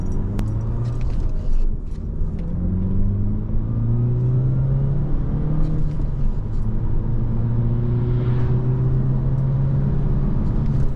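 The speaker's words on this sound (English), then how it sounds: "I'm gonna drive this 2010 Audi A5 on the German Autobahn, testing out its top speed and acceleration." A 2010 Audi A5 convertible with a 1.8 turbo engine drives on the German Autobahn, its engine drone climbing steadily in pitch through gears under a constant wind and road rumble, heard from inside.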